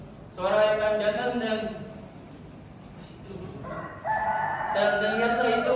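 A rooster crows at dawn in a school stage drama of Sangkuriang, with two loud, drawn-out crowing calls separated by a quieter pause.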